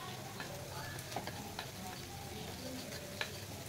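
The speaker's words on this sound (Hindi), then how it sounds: "इसको हम 2 से 3 मिनट फ्राई कर लेंगे प्याज को" Onions and shredded chicken fry in a pan while a spoon stirs them, giving a soft, continuous sizzle with a few light scraping clicks and no voices.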